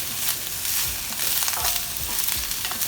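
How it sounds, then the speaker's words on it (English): Burdock root and carrot sizzle and fry steadily in a hot pan, with a close, continuous crackle and occasional stirring scrapes, no talking. "And all I'm going to do is just saute it."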